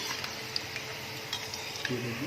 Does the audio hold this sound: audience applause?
no